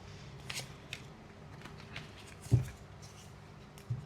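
Tarot cards are shuffled quietly, giving soft, intermittent rustles and a couple of sharper taps against a faint, still background.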